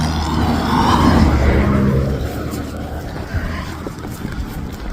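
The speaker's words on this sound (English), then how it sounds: "Got some traffic on this road." Traffic passing on a road near a hiking trail by Jacob Lake, a loud vehicle rush swelling and then easing off, followed by continued road noise.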